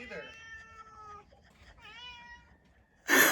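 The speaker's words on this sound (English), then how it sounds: "I think that's why she's meowing." A house cat meows several times in long, rising and falling calls, close and clear in a quiet room, followed by a sudden loud noise at the end.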